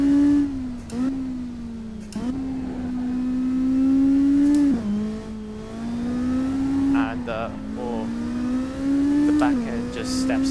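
A Honda lawnmower races around the Macau Guia Circuit against AI cars in the Assetto Corsa sim, its engine whining loudly and rising and falling through repeated gear shifts. A voice talks over it.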